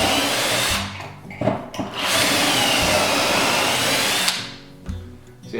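A power drill boring pocket holes in wood with a Kreg Jig 720 Pro whines at high speed in two long bursts, with brief pauses and clatter between runs.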